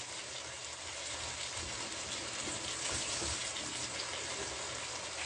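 Tap water runs in a kitchen during noodle preparation, giving a steady, even hiss and rush that lasts the full few seconds with no talking over it.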